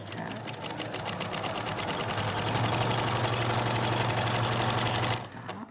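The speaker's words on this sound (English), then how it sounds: "I'm just going to sew this first half." A sewing machine runs steadily for several seconds, stitching the first half of a rounded beak style washable fabric face mask, with a fast even needle rattle and motor hum before it stops abruptly.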